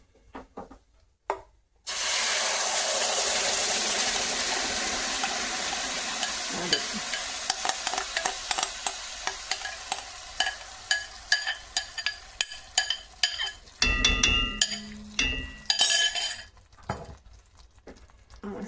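Tamarind pulp hits roasted cumin in a hot pan with a loud sudden sizzle that slowly fades, followed by rhythmic scraping stirs of a spoon against the pan, with no talking.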